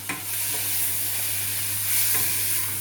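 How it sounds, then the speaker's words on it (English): A white wine sauce seasoned with a pinch of salt and black pepper is stirred briefly, a soft scrape at the start under a steady low sizzle-like hiss, close and quiet. "give it a bit of a stir"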